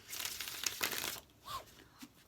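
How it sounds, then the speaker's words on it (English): Tarot and oracle cards being shuffled by hand, a soft papery riffle and slide with a couple of brief fainter swishes, quiet and close. "while I shuffle my cards"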